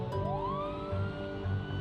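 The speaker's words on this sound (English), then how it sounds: "We're going to put the siren on full ball" Police car siren in the Project Zomboid video game, switched on at full blast in a wooded area: a rising electronic wail that sweeps upward and holds, steady and fairly loud, with no talking.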